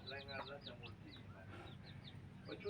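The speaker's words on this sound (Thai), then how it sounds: "ก็มาเลี้ยงไก่แหละพี่น้อง เลี้ยงไก่หน่อย" Chickens clucking at a rural Thai farmstead home, several short clucks and calls scattered across the clip at moderate distance over a faint outdoor background.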